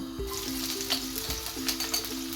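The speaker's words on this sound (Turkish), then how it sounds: "Tavamızda biraz yağımız var, kızıyor. Hemen soğanlarımızı bırakalım" Julienned onions sizzle and crackle steadily in oil in a frying pan, with soft clinks and scraping in the background.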